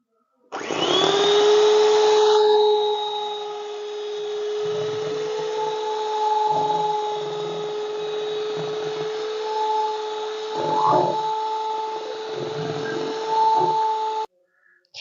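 An electric mixer beats cake batter for a wheat-flour cake, holding a steady whine from start to finish. The pitch dips briefly partway through, with no talk over it.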